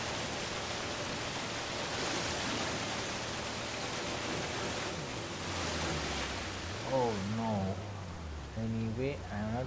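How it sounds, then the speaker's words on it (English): White water rapids rush in the Uncharted 4 video game, a broad, steady roar of churning water at low level, with voices breaking in near the end. "This white water is very dangerous."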